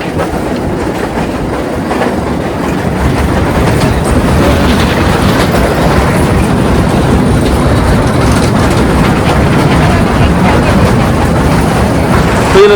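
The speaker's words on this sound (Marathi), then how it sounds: "ट्रेन येते मागून" A train rumbles past close by, loud and continuous, its wheels clattering rhythmically on the rails throughout.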